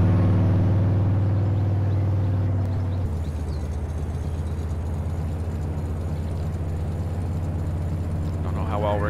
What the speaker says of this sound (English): Wow, this truck's loud.